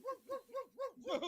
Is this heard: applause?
no